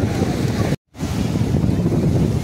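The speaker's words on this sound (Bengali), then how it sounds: "দেখতে পাচ্ছেন জলের ঢেউগুলো এত সুন্দর" Large ocean waves at Juhu Beach in Mumbai roll in as a continuous loud broadband roar with a brief dropout, no talk over it.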